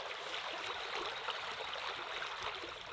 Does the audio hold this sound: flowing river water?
yes